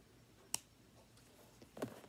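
A single sharp snip of scissors cutting off a tatting thread end, close and quiet, with a fainter rustle of the thread shortly after.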